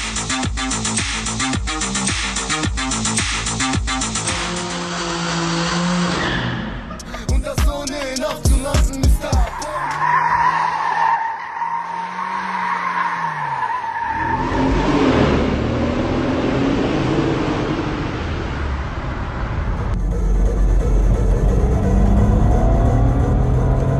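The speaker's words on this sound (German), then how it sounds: "In Bremen soll sich die Autoszene wilde Fahrmanöver liefern" Cars rev and skid through wild street-racing maneuvers in Bremen, engines roaring loudly and shifting pitch over a long stretch with mixed noise and no talk.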